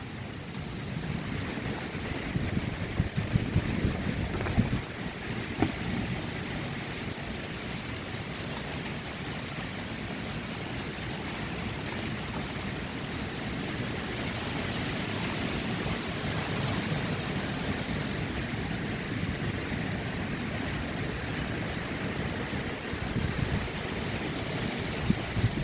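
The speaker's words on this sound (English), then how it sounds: "Those wind gusts feel pretty good." Wind gusts rush steadily outdoors as a storm rolls in on a muggy day, a continuous broad roar with brief buffeting on the microphone and no speech.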